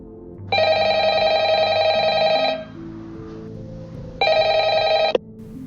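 Telephone ringing in the horror game Ultimate Custom Night, two long electronic ring bursts separated by a pause over a low droning background, loud and close.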